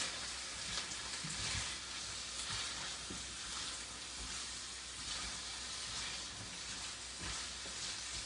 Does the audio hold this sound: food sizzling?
yes